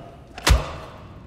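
A single heavy thud of a stab lands in the Hitman video game, a short close impact with a soft whoosh just before it, then quiet.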